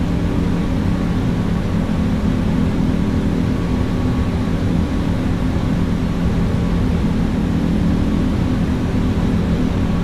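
Airbus A340-600 heavy jet on its takeoff roll in Microsoft Flight Simulator 2024, a loud, steady broadband engine roar that holds constant throughout with no talk.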